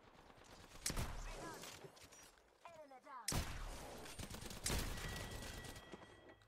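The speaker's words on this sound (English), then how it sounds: "This dude's getting shot at." Gunfire from Apex Legends rings out in a busy firefight, with several sharp bursts and volleys mixed with game effects and a fast rising tone, fairly loud throughout.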